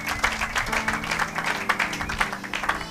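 Church congregation clapping and cheering in worship, a dense steady wash of applause with a sustained low hum of music or voices beneath, fairly loud and continuous throughout.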